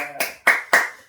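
Three sharp, close hand claps ring out in quick, even succession during a family's Sunday worship at home, each crisp and fairly loud with a short decay, and no talking over them.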